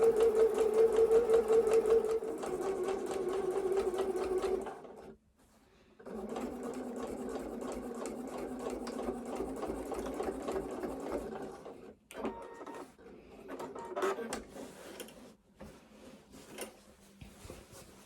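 A home sewing machine runs a second row of stitching on fabric for a pair of shorts, a steady close mechanical whir with one brief stop, then a longer run ending in scattered clicks.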